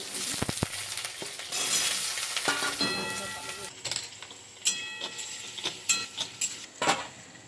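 Diced potatoes sizzle steadily in hot oil in a wok while a utensil stirs and scrapes the pan, with sharp metallic clinks toward the end.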